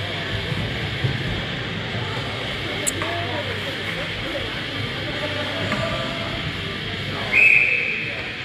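At an ice hockey game, a referee's whistle gives a short, shrill, fairly loud blast near the end, after a faint earlier chirp, over steady arena hum and background noise.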